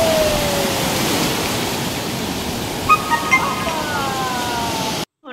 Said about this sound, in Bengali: জলের কি স্রোত আজকে,